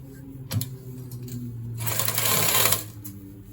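Sewing machine stitching a zip onto a pair of trousers: a short clatter of needle strokes, then a steadier, louder run of fast stitching that stops abruptly, with faint room noise between.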